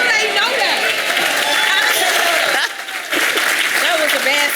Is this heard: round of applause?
yes